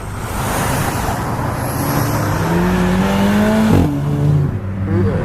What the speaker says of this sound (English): The GTI. Yeah, I heard it revving up.